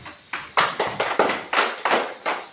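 A school class claps a rhythmic spirit cheer (tepuk semangat) in a classroom, eight crisp, evenly spaced group claps in a quick steady beat, close and fairly loud, with no talk.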